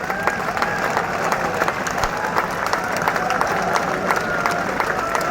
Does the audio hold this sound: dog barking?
no